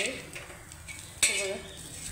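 Green beans roasting in oil in a pan, with a soft sizzle and the scrape of stirring, then one sharp clink of a utensil against the pan partway through.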